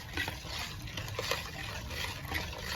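Urad dal flour and powdered sugar stirred into ghee in a pan, soft scraping and faint sizzling with a few light clicks of a spoon, quiet and continuous.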